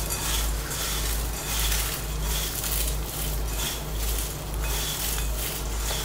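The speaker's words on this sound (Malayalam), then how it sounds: "നല്ലതുപോലെ കയ്യും കൊണ്ടൊന്ന് മിക്സ് ചെയ്യുക ഇത്." Steady gritty rustling and crunching as spicy Kerala mixture, a crisp fried snack with roasted garlic, is tossed and rubbed together by hand in a bowl, continuous and close with a gently pulsing rhythm.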